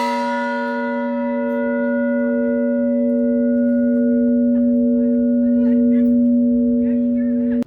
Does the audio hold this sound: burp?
no